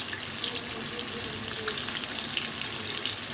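Onion frying in a pan, a steady dense sizzle and crackle heard close up throughout, with no voices.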